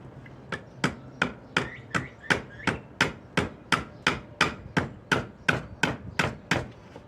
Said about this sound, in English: all you gotta do is get them out enough with the hammer